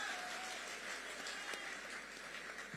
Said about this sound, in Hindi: तालियां बजाओ अपने लिए आप।